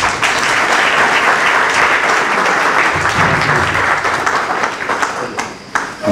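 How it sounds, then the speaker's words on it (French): An audience at a book signing for a novel breaks into loud, sustained applause, a dense wash of clapping that holds for several seconds before thinning slightly at the end. "Je vous demande encore une fois de nourrir vraiment salle d'applaudissements"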